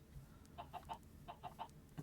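Video game chickens on a Minecraft-style farm give a quick series of short clucks, about six soft evenly spaced calls, faint against low background rumble.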